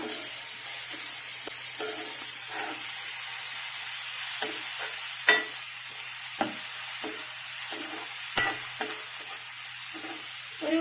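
Chopped tomatoes fry and get stirred in a pan of vegetable curry, a steady close sizzle broken by soft scraping strokes and a few sharper knocks of the spoon against the pan.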